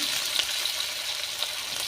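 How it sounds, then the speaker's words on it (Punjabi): Chopped onions sizzle steadily in hot oil for a tadka tempering for a zucchini sabzi, a dense continuous near frying hiss with faint stirring scrapes and no voices. "ਮੈਂ ਇੱਥੇ ਪਿਆਜ਼ ਹੀ ਪਾ ਰਹੀ ਹਾਂ"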